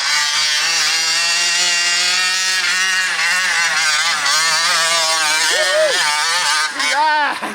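A 49cc gas-powered 5th-scale toy monster truck engine drives through a deep snow drift, droning loudly and close with a continuous buzzing whine that rises and falls with the throttle.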